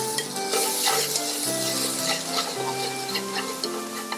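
Onions poured into hot oil crackle and sizzle close up in a bright, continuous hiss, with a faint steady tone running underneath.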